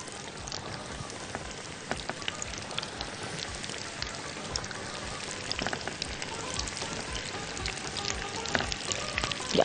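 Pieces of breaded brain frying in a pan full of oil, a dense, continuous crackling sizzle with scattered louder pops, steady throughout and heard up close.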